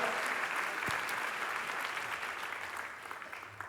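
Audience applause at the 41st Istanbul Film Festival opening, a dense steady wash of many hands clapping that carries on throughout and eases slightly toward the end.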